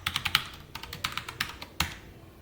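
Keys clack on a computer keyboard during a MariaDB database lesson: about a dozen close, crisp taps come in quick clusters separated by brief pauses.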